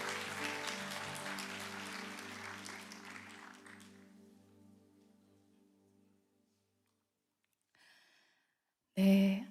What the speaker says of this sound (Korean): 우리의 찬양을 받으신 주님께 영광의 박수 올려드립니다